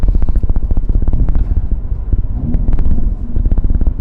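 Loud, throbbing exhaust of a Hyundai Veloster N driving downhill, rapid pulsing beats, a close rumbling drone that rises and falls slightly, with wind buffeting the microphone.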